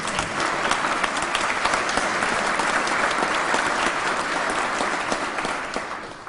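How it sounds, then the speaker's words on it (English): Sustained audience clapping and applause during a governor's State of the State address, dense and fairly loud, holding evenly throughout. "yes, you can clap for that."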